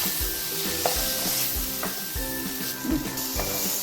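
Sliced onion frying in a pan for a masala pasta, a steady loud sizzle under repeated rhythmic scraping and stirring strokes of a spoon, no talk.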